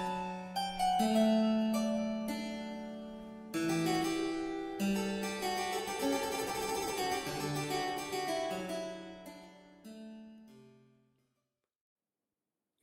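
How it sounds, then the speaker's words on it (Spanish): Bach's 32-bar aria opening the Goldberg Variations plays as a solo keyboard piece, clear sustained melodic notes over a bass line, moderately quiet, ending in a fade to silence with no voices. "El primer bloque se inicia con el aria de 32 compases y vamos a ver cómo suena."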